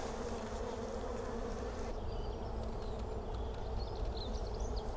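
Honeybees buzz steadily around an open hive during a beekeeper's inspection, forming a close, continuous drone with occasional individual bees passing nearby.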